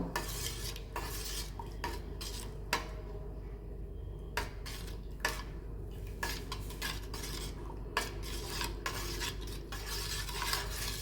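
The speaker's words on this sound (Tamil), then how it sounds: "இப்போ இதையும் வந்து சும்மா ஒரு ரெண்டு நிமிஷத்துக்கு நல்லா கலக்கி விட்டால் போதும்" A spoon scrapes and clinks against a pot as herbal extracts are stirred into a homemade bath soap mixture, with steady rhythmic strokes close up and no talking.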